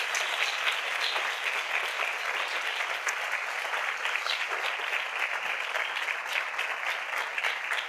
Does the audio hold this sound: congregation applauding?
yes